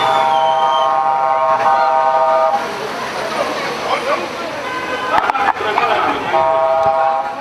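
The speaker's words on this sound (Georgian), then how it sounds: "ავტობუსი აქციის მონაწილე მძღოლებმა სტვენის ფონზე გააცილეს." Protesting drivers whistle loudly as a Metro+ bus departs from a street demonstration, with shrill sustained whistle tones rising over crowd and traffic noise, cutting out briefly midway and then returning.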